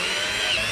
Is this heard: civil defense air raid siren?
no